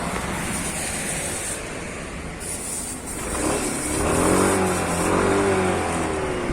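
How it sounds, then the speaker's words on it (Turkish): A motorcycle engine runs at a steady idle nearby, its rumble rising slightly toward the end, with wind noise in the background. "Şu an motorun rölantisi güzel"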